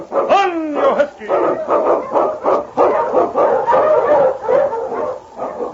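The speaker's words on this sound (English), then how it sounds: "On, King! On, you husky!" A husky sled dog, used as a sound effect in an old radio drama, gives a rising whine and then a rapid run of repeated barks and yips, loud and close.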